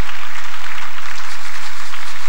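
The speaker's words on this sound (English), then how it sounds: "You are clapping for Jesus. Do that again." A church congregation at a Hosanna Sunday service claps loudly and continuously in a dense, even burst of applause that lasts a couple of seconds.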